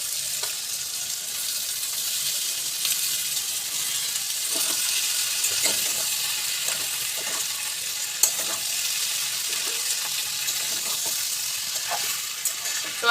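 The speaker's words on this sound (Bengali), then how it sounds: "আমি সিদ্ধ করে রাখা সয়াবিনটা দিয়ে দিচ্ছি" Boiled soybeans tossed into a frying pan with ghee, a steady close sizzle with soft scraping stirs and a few clinks, no talking.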